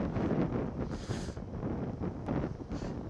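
Strong, storm-like wind roars and buffets a microphone continuously during a Honda Beat scooter ride in San Nicolas, Pangasinan, with gusts swelling and dropping throughout.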